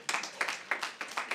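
A small audience claps at a PechaKucha Night in Sofia, a thin scattered patter of hands rising in short uneven bursts over a second or so.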